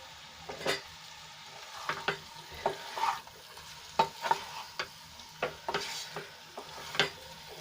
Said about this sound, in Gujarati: એક મિનિટ માટે આપણે એને સંતળાવા દઈશું અને ઉપર નીચે આપણે એને ફેરવી લઈશું